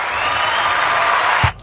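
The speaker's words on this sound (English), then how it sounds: "put the clapping sound from me, please?" A canned applause effect swells as a dense wash of clapping and light crowd cheer, steady and loud, then cuts off abruptly at the end.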